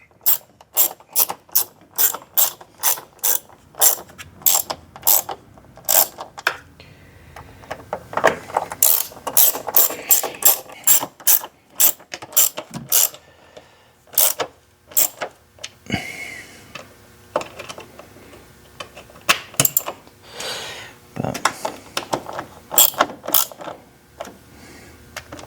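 A ratchet fitted with a T25 Torx bit drives screws into the engine air filter cover of a Ford Fiesta. Close, loud bursts of rapid clicking repeat in quick runs with short pauses between them, and no one speaks.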